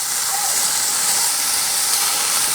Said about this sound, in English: we're getting a good sizzle